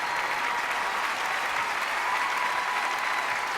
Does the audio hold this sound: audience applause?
yes